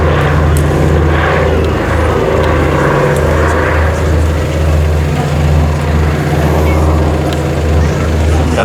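A Canadian Vickers-built Canso flying boat drones past at an air festival, its propeller engines a loud, steady, low hum throughout, with a voice faintly audible over a public address.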